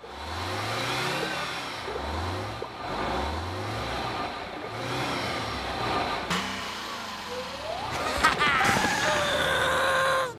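Cartoon bus from SpongeBob pulling away, a mid-pitched engine revving and accelerating repeatedly, with a rising whine near the end over busy cartoon effects.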